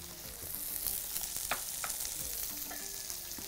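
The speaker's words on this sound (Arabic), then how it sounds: "وهنحط قطعة زبدة" A piece of butter melts and sizzles in a hot pan beside pepper, a continuous even frying hiss with a few soft clicks and scrapes, close by and moderately loud.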